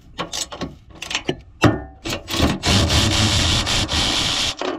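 A long-handled ratchet breaks loose tight 14 mm bolts on a Toyota Sienna cowl panel: loud, close clicks and grinding scrapes, building into a sustained rasping stretch.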